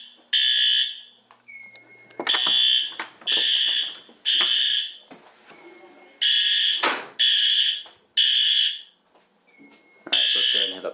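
A home fire alarm system annunciator sounds during a system test, giving loud repeated electronic alarm bursts in an on-off pattern with short gaps between them, and brief background noises fall in between the bursts.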